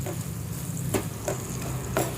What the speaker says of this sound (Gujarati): બધું મિક્સ કરી લેવાનું છે.